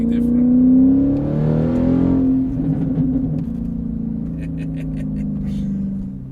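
A 670bhp Jaguar XFR-S engine drones and revs as heard from the back seat, a loud rising then steady cabin rumble with a brief whir, under occasional talk.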